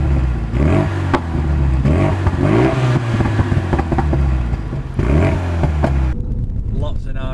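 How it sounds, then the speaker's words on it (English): A Renaultsport Megane R 275 Trophy in RS mode revs hard several times in bursts, with throaty exhaust roars rising and falling, heard from outside, fairly loud and close. "what the RS mode sounds like through the exhaust system from the outside when we're just revving it"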